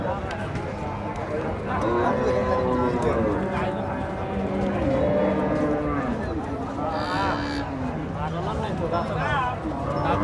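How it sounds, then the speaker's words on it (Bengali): Cattle mooing at the Sharatnagar cattle market where pregnant cows are for sale, several loud drawn-out moos overlapping one another amid crowd chatter and people talking throughout. "প্রেগনেন্ট গাভি দেখানোর চেষ্টা করতেছি শরৎনগর হাট থেকে"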